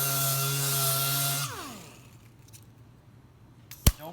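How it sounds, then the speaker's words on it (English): An orbital sander with 150 grit yellow sandpaper runs on a guitar soundboard with a loud steady motor hum, then spins down and stops about midway, leaving quiet handling noise and one sharp knock near the end. "I'm going to put an orbital sander on. This is 150 grit, the yellow one."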